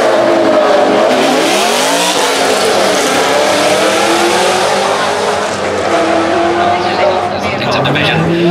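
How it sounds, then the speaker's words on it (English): A new Aston Martin V8 Vantage accelerates hard at the Goodwood Festival of Speed, its loud engine note sweeping up and down through the gears for several seconds, with faint tyre squeal and a nearby voice. "Here's the new V8 Vantage from Aston Martin"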